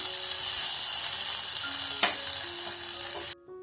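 Hot tempering of chillies, curry leaves and a pinch of asafoetida poured into tangy shallot-garlic kara kuzhambu, giving a loud, steady sizzle that hisses for a few seconds, then cuts off abruptly.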